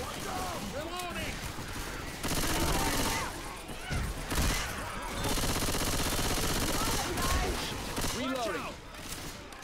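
Video game gunfire from Left 4 Dead 2 rattles in near-continuous bursts of automatic shots, loud and dense, with characters shouting over the shooting.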